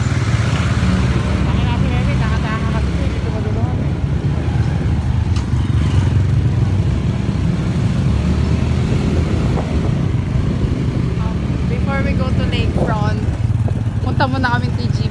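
A motorcycle ridden near a lakefront gives off a steady engine hum mixed with wind roar from start to finish, while riders talk over it.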